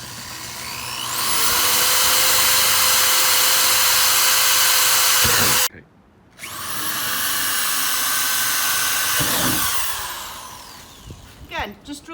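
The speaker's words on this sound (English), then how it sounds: "Now I'm going to get ready and go ahead and drill the holes." A power drill runs steadily while boring mounting holes for a Polaris Lock and Ride rear cargo box on a 2017 Sportsman 570 SP ATV, one long loud run, a brief stop, then a second run winding down.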